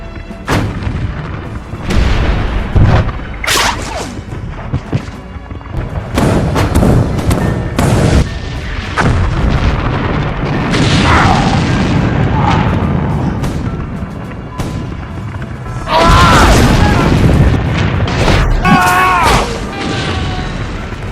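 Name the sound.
cannon fire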